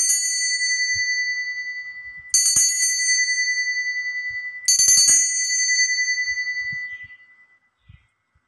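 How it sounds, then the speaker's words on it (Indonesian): A bell rings three times, each bright metallic strike ringing out and decaying slowly, spaced a couple of seconds apart, with the last ring fading into near silence. "saya akan memulai hasil ramalan dengan ditandai lonceng berbunyi"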